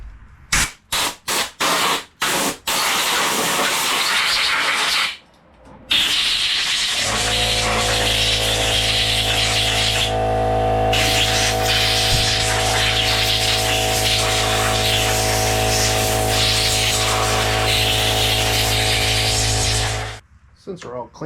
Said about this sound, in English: So let me blow that out.